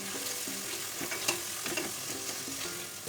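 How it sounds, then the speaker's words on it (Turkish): Rice stirred and sautéing in a pot on the stove before spinach goes in, giving a steady close sizzle with a few brief scraping stirs, no voices. "Bir kaşık pirincimi de ekliyorum. Şöyle birazcık soteledikten sonra"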